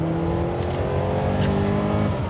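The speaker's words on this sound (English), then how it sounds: "the way the engine's pulling, so linear and beautiful. Sounds fantastic" A Lancia Integrale's engine pulls hard on a race track, a loud, steady, dense roar that rises smoothly in pitch with no break.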